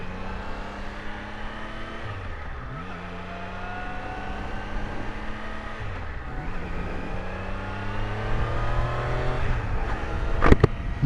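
A Triumph Daytona 660 sport bike engine revs through repeated gear changes, with rising harmonic whine and brief dips between shifts, heard close and steady while riding, ending in a sharp burst near the end.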